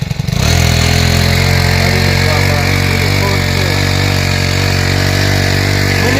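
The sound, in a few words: mini tiller engine running on a farm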